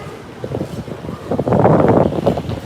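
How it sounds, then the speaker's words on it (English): Gusty wind by a harbour in Hong Kong buffets the microphone with low rumbling, growing stronger and more turbulent in the second half. "Oh, a little bit windy."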